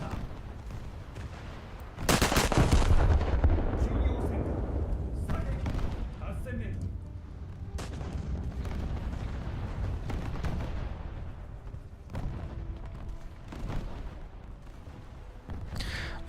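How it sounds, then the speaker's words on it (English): A battleship's main guns fire a heavy salvo in a naval combat game, one loud booming blast with a long rumbling tail, followed by scattered distant impacts while someone talks. "And then I'll fire the salvo."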